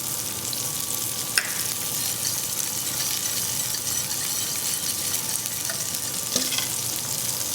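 Shrimp frying in butter in a pan give off a steady, fairly quiet sizzle with a couple of sharp utensil clinks against the cookware, and no one speaks.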